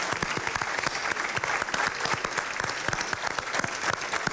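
Applause for employees at an annual general meeting, a dense burst of many hands clapping steadily throughout, moderately loud in a hall with no voices on top.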